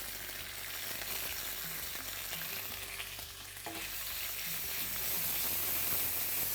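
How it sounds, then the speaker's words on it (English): Hing, black mustard seeds, curry leaves, crushed ginger, garlic and green chilies frying in hot oil for vada pav, a steady close sizzle with faint crackle and occasional stirring clinks, no voices. "Stir this well and allow the raw flavor or the raw smell to kind of go away."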